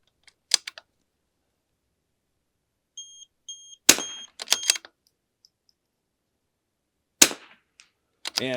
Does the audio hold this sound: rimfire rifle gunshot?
yes